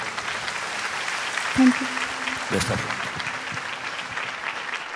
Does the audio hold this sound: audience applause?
yes